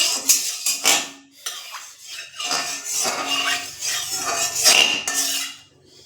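Metal spatula scraping and clanking against a hot karahi with oil, irregular bursts of stirring strokes that are close and fairly loud, with no talking.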